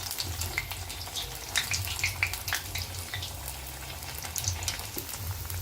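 Stuffed bottle gourd bajji frying in hot oil, giving a steady bubbling sizzle with scattered pops and faint clinks as the pieces are turned, close and unbroken.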